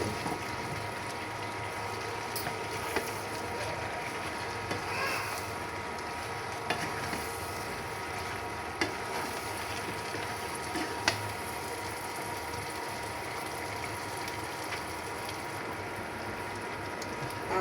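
Spice paste for a raw mango oil pickle stir-fried in a pan, a steady close sizzle broken by occasional scraping stirs of the spoon, continuous and fairly even throughout with no talk.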